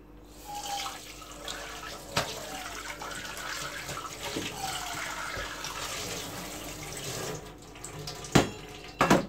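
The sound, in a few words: washing a measuring cup under a running tap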